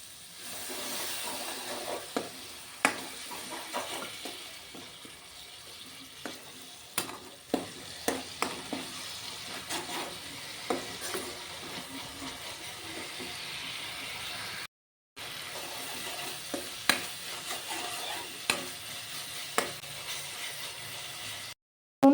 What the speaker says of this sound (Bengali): এখন মশলাটাকে ভালো করে কষিয়ে নেব